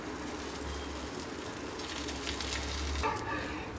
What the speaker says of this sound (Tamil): எண்ணெய் நல்லா காஞ்சதும் போடுங்க.